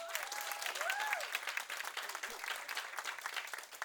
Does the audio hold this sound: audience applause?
yes